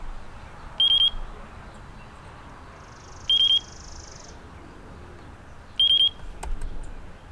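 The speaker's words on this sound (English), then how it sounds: "it's beeping. I hear beeping" A drone's radio receiver beeping during binding: three evenly spaced, short high-pitched electronic beeps about two and a half seconds apart over a quiet room background.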